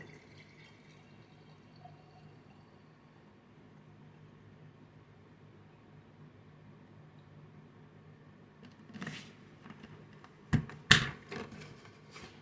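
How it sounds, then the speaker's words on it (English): White vinegar poured into a spell jar: a long near-silent stretch with faint hum, then a few brief splashing, trickling bursts close by near the end. "So I'm going to pour in the white vinegar."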